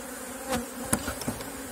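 A honeybee colony, not a very calm one, buzzes steadily around a beekeeper working the hive during an artificial swarm split, with a few louder close passes of bees near the ear.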